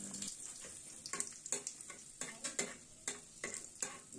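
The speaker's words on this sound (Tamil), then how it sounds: "எண்ணெய் நல்லா சூடானதும் கடுகு தாளிச்சிடலாம். கடுகு பொட்டியதும் காஞ்ச மிளகாவை சேர்த்துடலாம்." Dried red chillies and mustard seeds fry in hot cooking oil, giving a steady sizzle broken by a run of sharp crackles and pops, close and clear with no voices.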